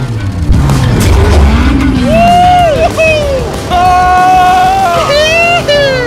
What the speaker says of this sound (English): driving overpriced, loud cars On a private racetrack